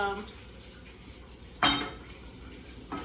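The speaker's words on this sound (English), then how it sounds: "Let's get this skillet on." A skillet set down on a stove burner in a home kitchen while making a vegetable omelet, one sharp metallic clank near the middle, then a lighter knock at the end, over quiet room tone.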